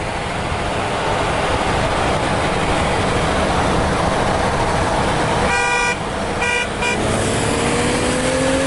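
A loud vehicle horn blares in a couple of sustained blasts over constant traffic rumble and road noise.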